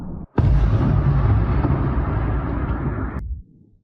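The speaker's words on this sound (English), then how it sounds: "only these kinds of powerful explosions" A sudden, powerful explosion from a Ukrainian rocket artillery strike, with a heavy, sustained rumbling roar lasting a few seconds before cutting off, loud and close.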